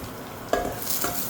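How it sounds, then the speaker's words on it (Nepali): Garlic, ginger and sesame seeds fry in hot oil while being stirred for momo, a quiet, soft sizzle broken by a few brief scraping stirs. "अलिअलि भुट्नुपर्छ।"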